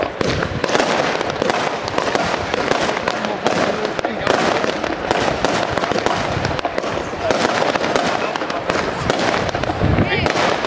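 A firework battery cake fires ruby red and emerald green bouquets with silver glitter, a dense run of sharp cracks and pops with crackling fizz throughout, shot as two batteries, with voices talking over it.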